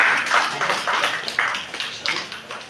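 Audience applause at a St. Joseph college arts and commerce festival, a steady spread of clapping with rhythmic accents, moderately loud and continuous without talk.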